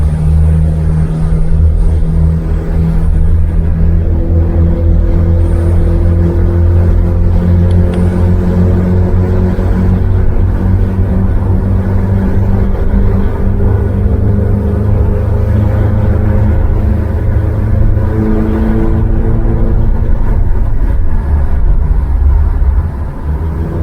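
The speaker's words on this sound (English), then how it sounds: "Ruby's exhaust notes" A car's exhaust rumbles and drones inside a tunnel styled after the Monaco tunnel. The deep, loud tone swells and shifts in pitch as the engine revs up and eases off, with no voices.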